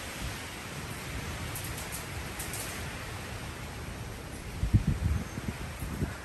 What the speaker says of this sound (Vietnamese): gió rất là mạnh luôn